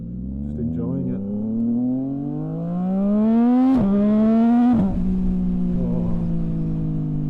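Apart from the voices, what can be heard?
Triumph 675 three-cylinder motorcycle accelerating with aftermarket exhaust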